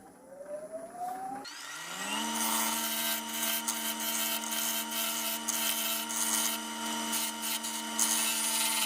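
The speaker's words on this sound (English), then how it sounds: "And I might try with my smaller gouge just to see if it maybe hugs the curve a little" A small gouge cuts an olive wood rectangular platter on a lathe, starting with a rising spin-up tone, then a loud, sustained, steady scraping hum with fine ticking texture, close up and with no speech.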